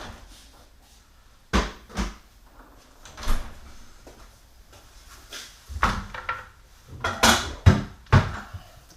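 A refrigerator door is opened and shut in a home kitchen while ground beef is put away, a series of scattered thumps, knocks and rattles at varying loudness, close by with no talk.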